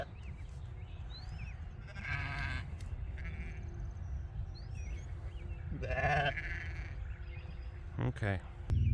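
A ewe and her newborn lamb bleat repeatedly on a farm during lambing, calls rising over a steady background rumble, with cattle nearby, a few faint bird chirps and a person speaking at times.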